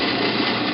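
A countersink deburring the exit side of a freshly drilled hole in a metal pawl stop part, giving a steady, close, continuous grinding whir with no pauses for under a second.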